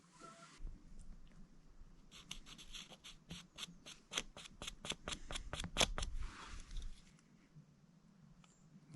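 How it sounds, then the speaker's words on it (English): A file stroking the teeth of a chainsaw cutting chain in steady, rhythmic rasps, about a dozen evenly spaced scrapes close by, with no talking. "And then I have to sharpen the cutting chain on the saw."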